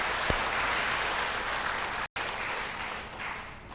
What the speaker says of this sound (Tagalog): Kung gising ka, pumalakpak nga kayo.